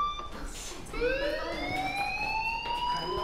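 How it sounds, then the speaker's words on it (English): A fire alarm blares in a video game, a loud electronic tone that sweeps upward and then holds steady, sounding continuously after a brief quiet start. "do you hear that fire alarm?"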